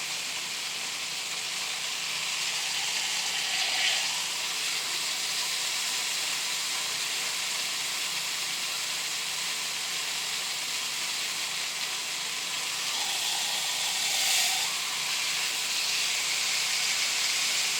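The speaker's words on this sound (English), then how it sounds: "So this piece of meat will be browned all the way around." A piece of meat browning in a hot pan for a home weekend dinner, giving a continuous close, bright sizzle and hiss that swells briefly twice as the meat is shifted, with no talking.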